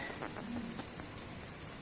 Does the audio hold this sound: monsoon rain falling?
yes